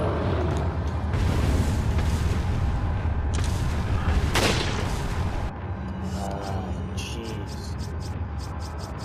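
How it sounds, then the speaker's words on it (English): A grenade blast in the Resident Evil 4 remake on PS5 gives a loud, rumbling boom with a sharp burst near the middle. It settles into a lingering low roar, and scattered game effects follow after it. "I think this grenade did good"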